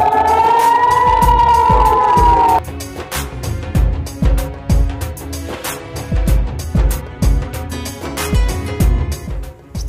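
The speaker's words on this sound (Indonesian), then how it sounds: "serangan rudal dari Gaza itu menyebabkan sirene di perbatasan wilayah pendudukan berbunyi." A loud wailing warning siren sounds along the occupied border area during a missile attack from Gaza, its rising tone giving way after a few seconds to dense rhythmic pounding and clatter that continues to the end, with no voices.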